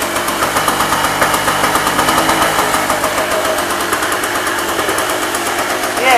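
A smoky two-stroke generator engine runs just after a cold start, its loud, close, rapid pulsing putter steady throughout with a slightly uneven beat.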